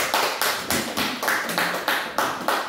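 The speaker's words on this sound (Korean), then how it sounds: "우리 나오실 때 박수로 환영하겠습니다" Rhythmic congregational clapping in a church welcoming a guest pastor, sharp unison claps in a steady beat of roughly three per second, moderately loud with no talk over it.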